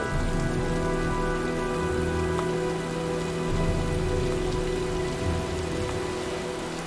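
Steady, dense rain pours down in the Heavy Rain video game, a continuous even hiss of drops on surfaces with a low rumbling undertone, no voices.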